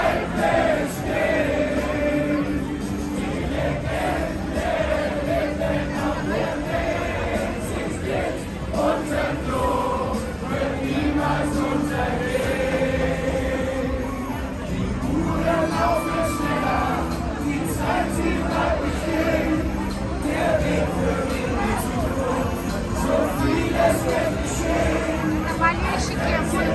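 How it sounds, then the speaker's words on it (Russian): A large crowd of football fans at a fan event in Lohr am Main, Bavaria, keeps up a constant, dense babble of voices with occasional cheers and whoops over about half a minute. "мероприятие фанатов футбола."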